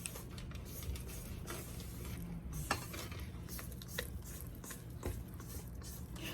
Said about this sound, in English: Scrape your bowl.